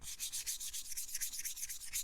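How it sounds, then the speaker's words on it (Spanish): Fine 1000-grit sandpaper is rubbed along the edge of a piece of leather in quick, even back-and-forth strokes, a soft rhythmic scratching heard up close and alone. "cuando sintamos que es suficiente con la lija 400, empezamos a alisar también con la 1000"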